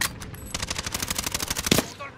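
Rapid automatic gunfire in Warzone, the player taking hits, comes as a tight burst of sharp repeated shots with one louder crack near the end, close and dense over a short stretch.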